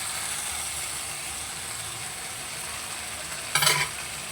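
A fried fish head being stirred into sizzling masala in a pan, a steady close hiss of frying throughout, with one brief scraping stir near the end.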